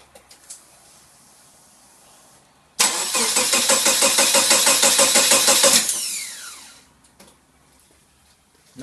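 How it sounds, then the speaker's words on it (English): A Subaru EA82T turbo flat-four engine cranks for about three seconds with a steady rapid rhythmic chug from the starter, loud and close, then winds down without catching. "And give it a crank."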